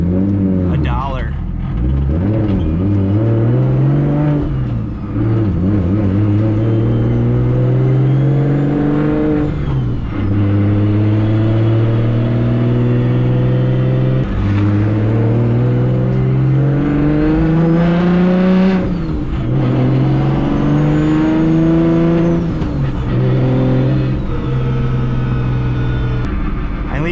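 A 750 hp BMW 135i revs loudly and repeatedly while driving, its engine pitch climbing through gears and dropping between shifts, heard close from inside the car with someone talking over it.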